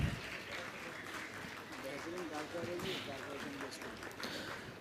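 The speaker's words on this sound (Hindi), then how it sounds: "जोरदार तालियों के साथ इस्तकबाल कीजिए।" Audience applause at an award ceremony for school principals, a steady dense wash of clapping held at even level for the whole stretch, with voices mixed in beneath it.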